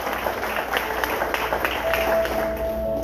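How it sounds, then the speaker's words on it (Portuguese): A church congregation applauding the Lord at a pastoral service: continuous, dense clapping from many people, steady and moderately loud, with a faint voice underneath. "Aplauda o Senhor"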